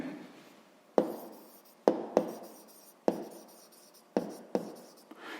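Pen writing out a list of numbers by hand on paper, a steady scratching with six or seven sharp strokes spaced through the stretch, each fading away, close and alone without any voice.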